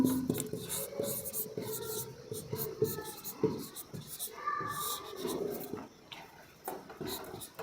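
Chalk or marker scratches and taps across a classroom board while an equation is written, with short rubbing strokes close by and a voice speaking softly in between.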